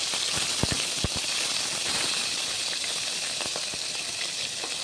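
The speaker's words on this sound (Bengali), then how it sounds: "তেলটা গরম হয়ে গেছে, তো আমার শুটকিটা দিয়ে দেবো।" Dried fish (shutki) frying in hot oil in a pan, a steady bright sizzle and hiss with occasional sharp pops and crackles, moderately close, without talk.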